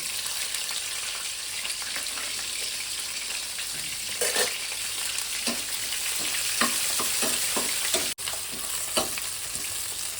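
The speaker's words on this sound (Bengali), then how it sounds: "একটা পেঁয়াজ কেটে আর এইভাবে একটু হালকা সেদ্ধ করে রেখে দিয়েছি। এটাকে আমি ভেজে নেব।" A lightly boiled, chopped onion fries in oil in a pan with a steady, close sizzle and scattered clicks of stirring, and no voices.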